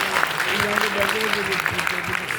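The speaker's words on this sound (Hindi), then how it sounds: "एक बार आप भी जोरदार तालियां बजा दीजिए।" Audience applause at a Hindi poetry gathering (kavi sammelan) marking Atal ji's centenary, a steady broadband patter of clapping sustained throughout, with a voice faintly present alongside.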